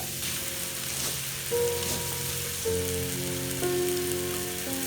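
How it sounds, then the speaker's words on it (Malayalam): Ginger garlic paste, onions, shallots and green chilies sauté in a pot for a chicken curry, giving a steady close frying sizzle with light stirring clatter and no talk. "ഇഞ്ചി വെളുത്തുള്ളി പേസ്റ്റ്, പിന്നെ ഉള്ളി, സവോള, പച്ചമുളക് ഇതെല്ലാം ഇട്ട് നമ്മളൊന്ന് വഴറ്റുകയാണ്"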